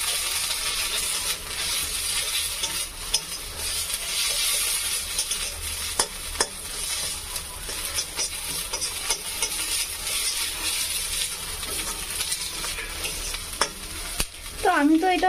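Onions with ginger and cumin paste sizzle and fry steadily in a pan at close range, with occasional clinks and scrapes of stirring and a louder burst of sizzling near the end.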